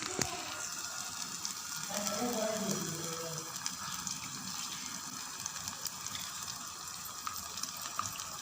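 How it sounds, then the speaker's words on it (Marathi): Water poured into a pan of Marathi sode vegetable curry with spiced masala, a steady rushing gush with a faint sizzle beneath, close and fairly loud. "आता टाकू थोडंसं पाणी।"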